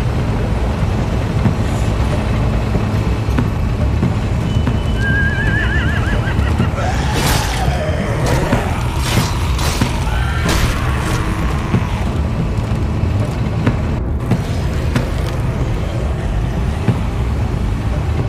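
Horses whinny in The Walking Dead video game, several rising and falling neighs in the middle, loud over a dense, rumbling background of game noise.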